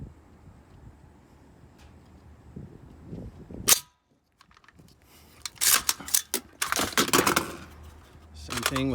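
An AR-15 magazine is slowly pushed into an MD Arms Auto R rifle: faint scraping and rubbing, a sharp metallic click, a moment of silence, then a cluster of rattling clacks and snaps as it seats.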